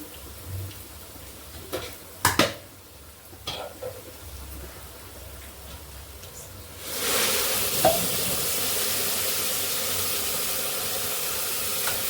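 Rice frying in a pot on a stove: a few sharp clanks and quiet scraping at first, then a loud, steady hissing sizzle sets in for the remaining half.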